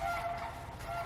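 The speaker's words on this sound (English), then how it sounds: "That's what you're hearing right now is our sandhill cranes." Sandhill cranes call from somewhere around a homestead in winter, their harsh rolling, gobbling cries carrying steadily over a low outdoor background, with no talk.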